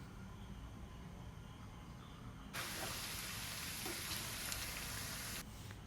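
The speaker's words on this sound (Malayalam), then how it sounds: "നമുക്ക് ഇനി ബാക്കിയുള്ള എണ്ണയിലോട്ട് വെളുത്തുള്ളി ചേർത്ത് കൊടുക്കാം" Garlic is dropped into hot leftover oil and sizzles loudly and close for about three seconds after a quieter hissing start, then the frying eases back to a low crackle; no talk.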